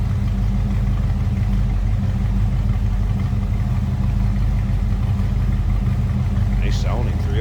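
A 1994 Ford Mustang GT convertible's 302 V8 idles steadily and close by, a deep, even low rumble that holds throughout with a light clatter and rising whine near the end.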